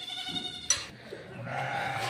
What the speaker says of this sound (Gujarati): બકરીનું બચ્ચું મૂકીને જતા રહ્યા અને બકરીનું બચ્ચું બૂમાબૂમ કર્યું છે